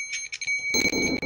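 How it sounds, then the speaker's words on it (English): A bell rung by the player in a horror video game, a bright electronic ring with sharp repeated strikes over a low rumbling background, close and fairly loud, no voices. "let's ring the bell"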